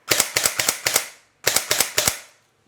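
Airsoft gun fired in full-auto bursts, two quick strings of sharp, snappy pops with a light blowback action, loud and close with a brief pause between bursts.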